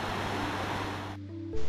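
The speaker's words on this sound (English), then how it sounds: "I found my first waterfall. Well, it's the cascade basically, but it's pretty steep." A steep waterfall cascade on Anthracite Creek in the Ragged Wilderness, Gunnison National Forest, Colorado, roars as a steady broadband rush close by, briefly dropping near the end.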